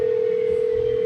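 Outgoing phone call ringback, a single steady tone held continuously and loud for about a second before cutting off abruptly.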